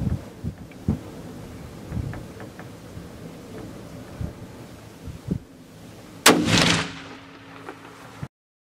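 A single sharp rifle shot rings out at a deer during a free-range exotic safari hunt in South Texas, loud and near with a brief rolling echo, after scattered outdoor rustling and before sudden silence.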